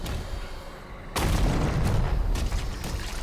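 A super shotgun fires in a Doom game, a sudden loud blast at about one second that gives way to a rumbling, sustained roar with further sharp bursts after it.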